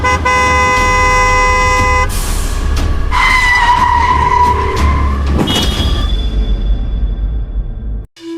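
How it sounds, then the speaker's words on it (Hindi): Loud, busy road traffic with engines roaring close by and car horns honking repeatedly, one long sustained horn blast standing out over the dense traffic noise. "अरे इतनी ट्रैफिक है"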